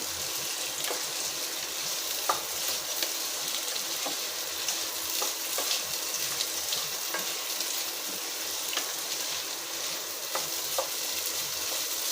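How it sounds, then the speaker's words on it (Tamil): Veg pulao is stirred in a frying pan over a constant bright sizzle, punctuated by scattered clicks and scrapes of a spoon against the pan. "எல்லாம் நல்லா மிக்ஸ் பண்ணிடலாம்"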